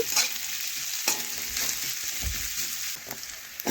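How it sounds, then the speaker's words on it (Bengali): Onions sizzle continuously in hot oil, with scattered clicks and scrapes from stirring close by. "পেঁয়াজগুলো তেলের মধ্যে দিয়ে দিচ্ছি। এখন পেঁয়াজ নাড়াচাড়া করে একটু লাল লাল ভাজা হয়ে যাওয়া পর্যন্ত"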